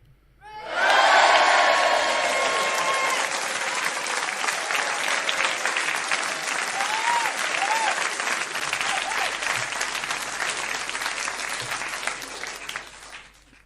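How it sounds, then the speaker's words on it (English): A studio audience bursts into loud, sustained applause mixed with cheers and whoops, swelling quickly and holding for over ten seconds before tapering off, with some voices shouting within the crowd. "So this one gets a full round of applause"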